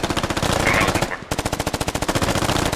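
Rapid machine gun bursts in the SquadOps video game, loud and close, rattling steadily with a brief pause near the middle before firing resumes; a voice speaks faintly underneath.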